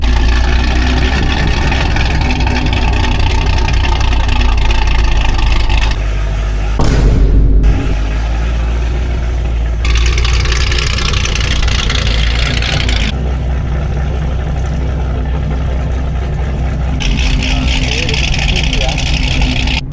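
Loud Mustang GT or Camaro SS V8 idles in Miami traffic, a heavy, steady rumble that stays close and booming from start to finish, briefly swelling in the middle.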